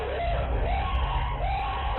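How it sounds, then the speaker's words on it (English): Cleaners in a hoarder's house yell and scream in a sustained, loud, strained outburst of voices, with steady low rumble beneath. "this video was taken just moments before they all started to scream"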